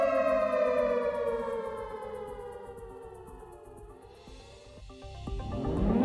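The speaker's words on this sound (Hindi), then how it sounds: "और ये जो सायरन आप सुन रहे हैं, ये जम्मू में इस वक्त बज रहे हैं।" Air raid alert sirens wail across Jammu, a steady loud civil defense tone sliding slowly down in pitch and then rising again, with no talk over it.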